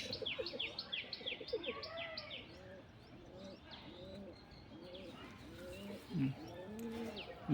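Several pigeons coo softly and repeatedly, rolling low calls overlapping with faint chirps from smaller birds in the background.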